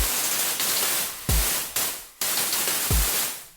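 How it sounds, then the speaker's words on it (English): Loud white noise hiss from the Cableguys Noiseshaper plugin, full and harsh, pulsing in repeating swells that decay and restart every second or so. "That is a lot of white noise."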